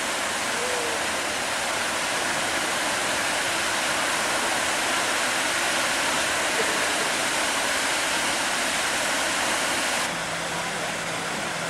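Park fountain in Oslo, Norway sends water splashing in a dense, continuous rushing hiss, loud and steady throughout with no pauses.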